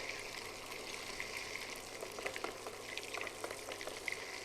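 Butter cooks and foams in a pan, a dense continuous sizzle with small crackles and light stirring strokes, close and fairly even throughout.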